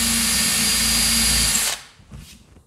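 A power drill with a 5 mm bit bores into melamine board, a loud steady whine running for about a second and a half before stopping abruptly, with faint handling noise after.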